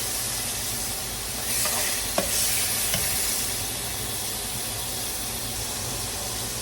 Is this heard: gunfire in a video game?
no